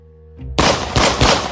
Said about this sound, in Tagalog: biglang umalingaw-ngaw ang malakas na putok ng baril